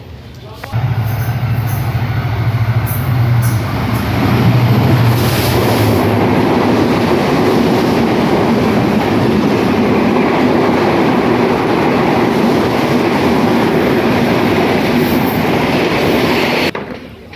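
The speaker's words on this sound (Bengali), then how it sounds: "চলুন আপনার ট্রেন আসার আগেই না ট্রেনটা চলে যাক" A train rolls past at a railway halt in West Bengal, a loud sustained rumble and clatter that holds steady for about fifteen seconds with a low hum at the start, then cuts off.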